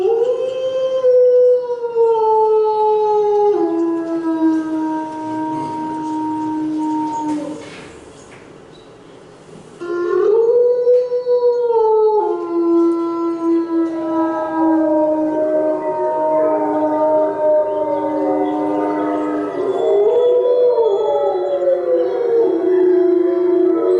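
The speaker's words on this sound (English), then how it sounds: "They are a wolf pack, howling." A wolf pack howls, several long overlapping wavering howls rising and falling together, loud and close, with a brief lull midway before the chorus resumes.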